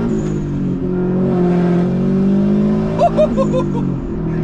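A third-generation Subaru Impreza WRX STI with 300 HP hums with a steady, rich engine drone while driving onto a toll road, pulling and rising slightly in pitch, with no talking.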